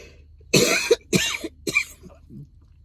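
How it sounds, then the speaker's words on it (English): A person coughs three times in quick succession, close and dry, followed by a couple of softer throat sounds in an otherwise quiet room. "Dry air got me coughing."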